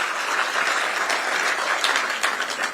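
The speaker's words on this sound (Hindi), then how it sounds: "तो एक बार ताली तो बजाइए आप लोगों को चैतन्य करने के लिए।" A gathered audience clapping on cue for an Uttarakhand flood and rain discussion; dense, fairly loud applause rolls evenly for the whole stretch without speech.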